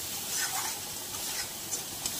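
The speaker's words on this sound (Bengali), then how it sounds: "সব মশলা একসঙ্গে ভালো করে ভেজে নিতে হবে যতক্ষণ না এর তেল ছাড়ে।" Spices fry together in oil in a pan, a soft, continuous sizzle broken by a few light stirring scrapes, fairly quiet and with no voices.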